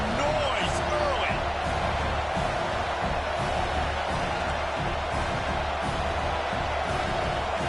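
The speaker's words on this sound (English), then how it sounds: "This crowd bringing the energy and noise early." Loud, continuous stadium crowd roar in a football video game, a dense unbroken wall of noise with commentary over it throughout.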